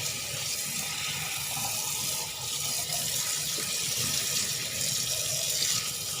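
Tap water runs loud and steady into a sink while a large whole tilapia is rinsed under the stream, a continuous close gushing splash with no speech.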